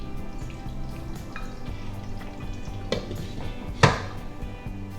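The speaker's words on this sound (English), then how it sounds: "I will simmer for another 1 minute now" Goan pork red gravy simmering in a pan, giving a low steady bubbling hiss throughout with a sharp brief clatter near the end.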